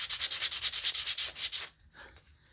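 Sandpaper rubs across the top edge of a small wooden snowman in quick, even back-and-forth strokes, close and crisp, then stops abruptly near the end.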